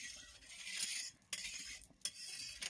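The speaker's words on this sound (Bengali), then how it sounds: "খুন্তি দিয়ে তেলটা একটু আমি চারদিকে নেড়ে দেবো" A metal spatula scrapes and stirs oil around a hot pan while making lau chokli, with steady bright sizzle broken by a couple of sharp clinks against the metal; close and alone, no talk.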